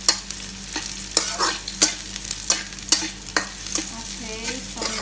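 Garlic and onion frying in a pan while being stirred for a sardine pasta, a steady close sizzle broken by regular scraping strokes of the spoon, with no talking.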